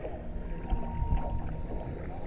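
A canoe drifts along Big Escambia Creek, with low rumbling water and faint wind noise, steady and close throughout.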